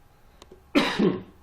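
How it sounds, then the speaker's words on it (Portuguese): A single harsh cough from a woman, close and fairly loud, lasting about half a second and trailing into a throaty rasp, with near silence before it apart from a faint click. "desculpa a tosse"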